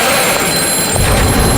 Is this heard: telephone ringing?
yes